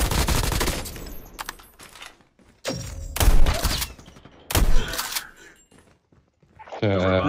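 Gunfire in a shooter video game comes in loud bursts of rapid fire separated by quiet gaps, with a voice talking between and over some of the volleys.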